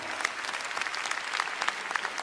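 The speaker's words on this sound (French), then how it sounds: "Donc je voulais qu'on l'applaudisse très très fort." Dense applause from a large audience at a French-speaking Ivorian gathering, steady and continuous with scattered sharper claps throughout, fairly close and alone without talk.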